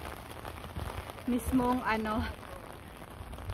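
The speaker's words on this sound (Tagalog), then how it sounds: "grabe ang ulan dito, OMG. Sobrang lakas ng ulan" Heavy rain falls at Saint Gilgen by Lake Wolfgang in Austria as a steady, dense hiss of drops on surfaces, with a person speaking briefly over it.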